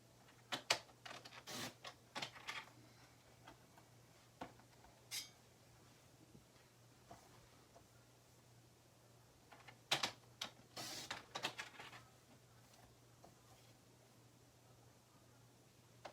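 A paper trimmer slices card stock down to size for a handmade card, giving scattered quiet clicks and short swishes of the blade and paper across a near-silent room with a steady low hum.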